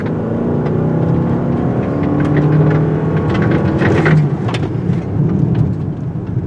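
Steady cabin drone of a 2025 Toyota Crown Signia while driving, with low engine hum and road noise, continuous and fairly loud, with some rumbling texture throughout.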